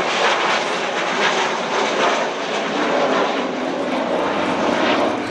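Avro Vulcan XH558, a delta-wing jet bomber, flying an airshow display at Farnborough; a loud, steady, broad jet roar sustains without a break for several seconds, with no voices over it.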